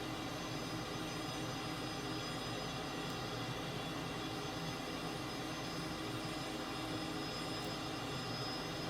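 A Cessna T-37 jet engine in a flight simulator game roars as the plane comes in to land, a dense constant whine and rumble that stays level and unbroken, with no speech.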